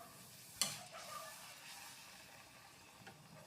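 Pani puri dough rounds dropped into hot oil, a soft steady sizzle and bubbling with a sharp splash near the start and a faint clink later, quiet and close with no talking.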